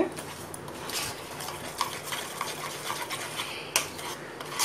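A spoon stirs egg marinade for chicken 65 in a bowl, giving soft continuous scraping and clinking with a few sharper taps, close by and fairly quiet, with no talking.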